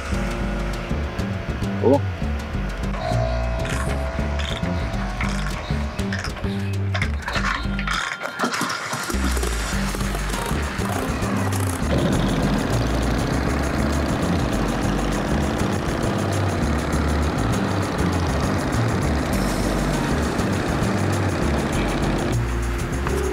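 Vintage Harley-Davidson motorcycle engine running and idling with a steady low rumble for much of the clip, after a brief drop, close by, with a voice speaking briefly over it.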